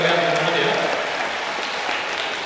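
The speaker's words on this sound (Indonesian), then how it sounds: "tepuk tangan dulu dong buat teman-teman UNT." An audience applauds in a lecture hall during a public university lecture on financial freedom. The clapping is steady and dense, with voices mixed in, and it thins slightly toward the end.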